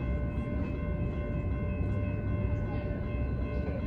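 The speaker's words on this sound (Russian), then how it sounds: "Это шумит городской поезд" A high-speed city commuter train rumbles past steadily with a continuous low roar and high tonal whine, fairly close and constant throughout.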